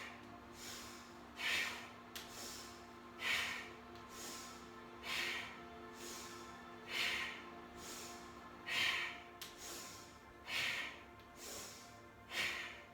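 Slow, steady nasal breathing during a yoga flow: soft, close breaths recurring about every one and a half to two seconds, each rising and fading, quiet and alone with no talking.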